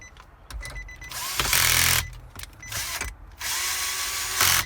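A power driver runs screws into the dash of a 2018–2019 Infiniti QX80 during a CarPlay/Android Auto stereo install. Close, short whirring bursts with brief pauses between them.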